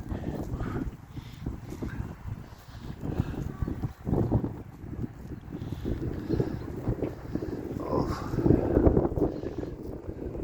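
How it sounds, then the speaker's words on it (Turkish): Gusty wind buffets the microphone in low, rumbling bursts, rising and falling throughout, with a brief sigh from a voice. "Rüzgar sesini duyuyorsunuz değil mi arkadaşlar?"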